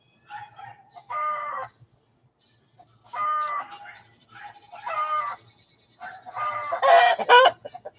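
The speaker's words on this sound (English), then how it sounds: "Now they got the guineas in the background talking." Guinea fowl on a farm call from the background in bursts of harsh, repeated cackling notes, growing louder and denser toward the end, with chickens and a rooster mixed in among the farmyard chatter.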